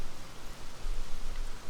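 Steady rain falls in the open-world game Tears of the Kingdom, a soft, even hiss of drops with no talking over it.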